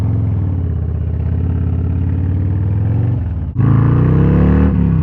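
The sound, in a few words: Harley Road Glide ST motorcycle with Sawicki Speed exhaust revving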